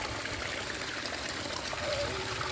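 Water drains steadily out of a home fish tank during an emergency water change, a continuous close trickling and gushing rush with no pauses.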